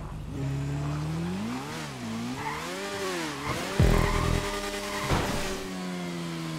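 Tires skid on a wet GTA 5 race track, an engine whine rising and falling with sliding squeals, a sharp thump near the middle and steady droning, no talking.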